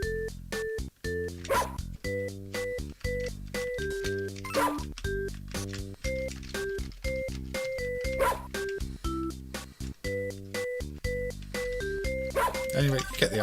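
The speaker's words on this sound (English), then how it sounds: "if you want to hear a lot of dogs barking, there you go" Many dogs barking in the Dogs puzzle game on a Senca Family Sport plug-and-play, repeated electronic yaps and barks over steady looping chiptune music.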